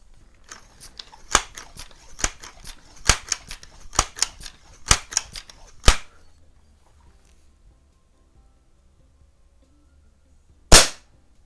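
A Crosman model 100 air gun, with a run of sharp, evenly spaced clicks for several seconds, then quiet, then one loud crisp report up close.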